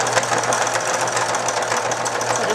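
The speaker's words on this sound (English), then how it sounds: "Make sure when you're sewing this seam that you do not go too close to the edge of the fabric" A sewing machine runs steadily, stitching a straight seam along the edge of fabric for a reusable snack bag, with a continuous close whirring buzz and no voices.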